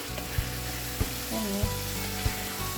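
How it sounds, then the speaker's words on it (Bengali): Egg bhuna sizzles steadily in a pan, a bright continuous frying hiss with four soft, evenly spaced knocks of a spatula against the pan, close and fairly quiet, no talking. "আজকে একটু ডিম ভুনা করছি"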